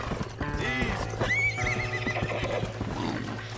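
A horse in the video game Red Dead Redemption whinnies loudly over a steady low hum and clip-clopping hooves, the neigh rising and wavering in the middle of the clip.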